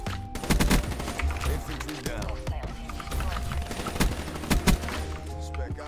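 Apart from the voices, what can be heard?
hip-fire gunfire in the video game Black Ops 3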